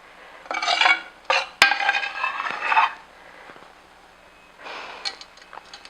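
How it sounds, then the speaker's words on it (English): Ladling tomato arrabbiata sauce over vegan eggplant rolls in a pan, with a few close clinks and scrapes of a ladle against the pan in short bursts separated by quieter pauses. "I'm now going to ladle over extra sauce."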